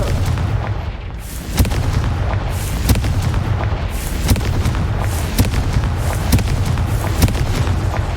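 In Hogwarts Legacy, a Confringo spell blasts out a series of booming explosions over a steady rumbling background, with sharp impacts recurring about once a second.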